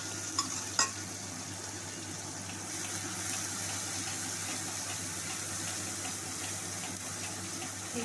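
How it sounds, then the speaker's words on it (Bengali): Onion, green chili and garlic paste frying and being stirred in a pan, a steady hiss of sizzling oil with a couple of sharp utensil clicks near the start, with no voices. "এইটা নেড়ে একটু ভাজা ভাজা হবে"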